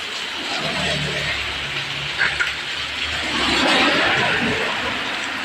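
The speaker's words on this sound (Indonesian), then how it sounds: "Kencang banget hujannya." Heavy rain driven by strong wind over a village on an Indonesian afternoon, a dense continuous wash of hiss and roar with a low rumble underneath.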